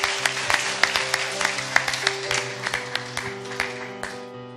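A church congregation in Madagascar claps and cheers in acclaim of Jesus, a dense wash of applause with sharp individual claps, sustained and fairly close, tapering near the end.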